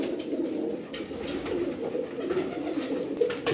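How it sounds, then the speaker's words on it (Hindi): Continuous low, throaty cooing from breeder pigeons close by, a soft rolling murmur that never lets up. "ये देखिए कबूतर वैसे तो गुटक रहे"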